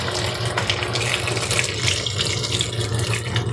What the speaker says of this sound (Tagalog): At lagyan natin ng mainit na tubig.